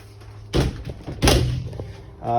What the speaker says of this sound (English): You do have privacy, pocket doors here.